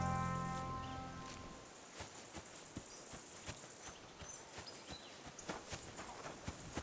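Horse hooves clip-clop at a slow, steady walking pace near stables in the video game Kingdom Come: Deliverance II, faint and a little distant, after a fading musical tone at the start.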